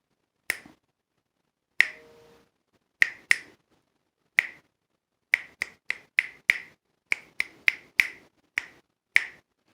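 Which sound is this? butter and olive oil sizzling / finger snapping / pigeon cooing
finger snapping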